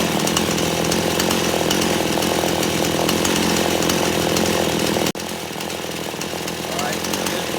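A chainsaw engine runs steadily while warming up before a carburetor adjustment, a loud continuous buzz that dips abruptly near the end and then carries on at a slightly lower level.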